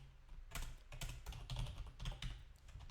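Keys clatter on a computer keyboard as code is typed, a quick, uneven run of soft clicks close by, with no voice over it.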